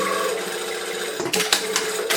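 A sewing machine runs a 2.5 straight stitch on a dress, a steady close mechanical whir with a few sharper clatters near the end, alone without talk.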